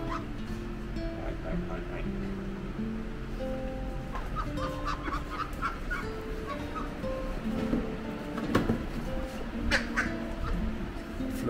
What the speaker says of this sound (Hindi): I am gonna catch the ducks. उनको एक क्रेट में रखते हैं